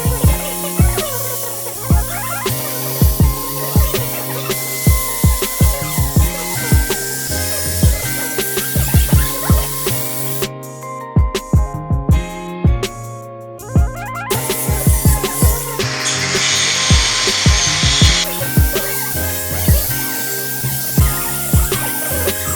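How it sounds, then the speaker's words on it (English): A power tool cuts and trims the bottom of a steering rack mount where it sticks out below a front crossmember. It runs as a loud, continuous, close-up grinding whine with shifting pitch and a few brief pauses. "I have to trim off the bottom of the rack mount right there that's sticking out below the cross member"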